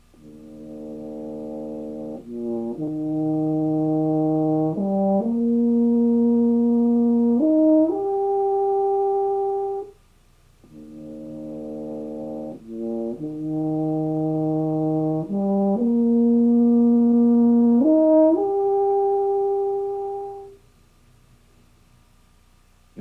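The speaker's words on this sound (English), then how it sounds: "a very soft passage from the beginning of Wagner's Das Rheingold." Solo French horn playing the soft, slurred opening passage of Wagner's Das Rheingold, a smooth rising line of sustained notes stated twice with a short pause between, alone and without talk.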